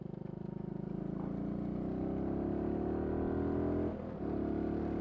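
A motorcycle engine idling with the choke on, a steady, close, throbbing rumble that rises slightly in pitch, then dips briefly before settling again.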